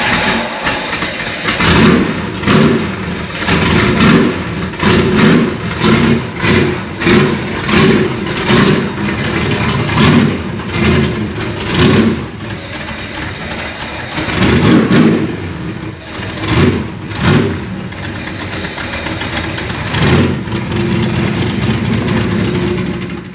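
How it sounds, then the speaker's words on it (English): A Shelby Cobra's engine cold-starts and idles roughly, a loud, close rumble with repeated uneven revs and surges over a steady throb. "it doesn't really like the cold starting, but it starts"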